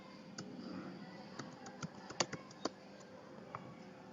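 Sparse, quiet keystrokes tap on a computer keyboard, a handful of separate clicks with one sharper press, over a faint background hum.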